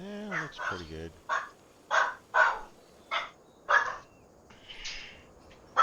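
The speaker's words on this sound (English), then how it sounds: "Sorry about the dogs." Dogs bark inside a house in short, sharp bursts, about eight spaced yelps at mid distance, over a man's quiet speech.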